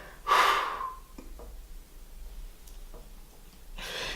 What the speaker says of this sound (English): So palms down, you're going to breathe out,